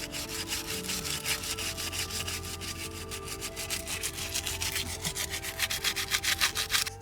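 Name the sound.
sandpaper sanding a wooden tree branch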